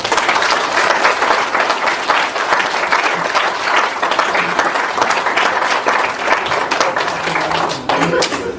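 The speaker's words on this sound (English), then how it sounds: "Big round of applause for Tarek." A school audience applauds a pupil receiving an award, steady dense clapping at close range that holds throughout, with voices chattering beneath.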